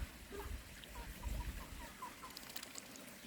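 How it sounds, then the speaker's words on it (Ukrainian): A young rooster gives faint, scattered clucks and chirps among other farm fowl and ducks, low in level against a soft outdoor background. "Це також півничок, бачите?"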